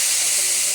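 Panch phoron and dried red chillies sizzle in hot oil with a steady, close, bright hiss and crackle that holds evenly throughout, with no voices.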